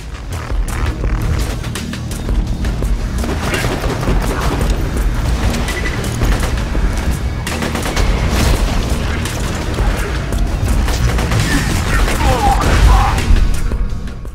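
Enemy gunfire in Borderlands 2, dense continuous bursts and booming impacts with mechanical clatter throughout, loud and relentless with occasional louder explosive pops.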